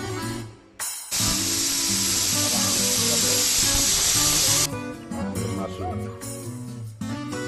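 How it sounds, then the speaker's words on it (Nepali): Pressure cooker on the stove hissing a loud, steady jet of steam for several seconds while Nepalese-style mutton curry cooks inside, the rush cutting off abruptly, with lower kitchen noise continuing around it. "यसलाई मैले मजाले कुकरमा सिटी लगाएर आधा घन्टा जति पकाउँछु"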